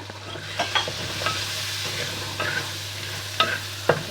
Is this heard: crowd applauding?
no